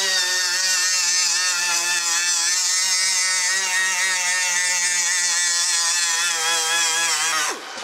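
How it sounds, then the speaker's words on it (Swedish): A power tool fitted with a coarse cleaning disc grinds rust off sheet metal, a loud, steady high whine held for about seven seconds before it winds down at the end. "Till exempel ha en grovrengöringsrondell. Så här. Och köra väck rosten."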